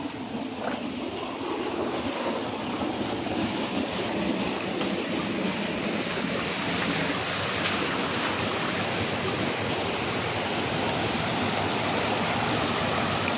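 A strong forest stream rushes loudly and continuously, a dense steady roar close at hand with no pauses.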